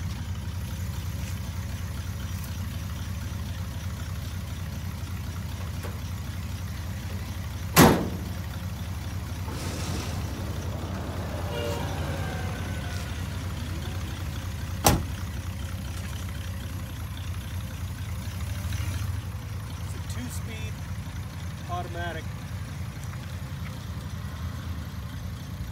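An old car's engine idles with a steady low rumble, broken by two sharp bangs like a hood or door closing, before the engine note shifts as it pulls away.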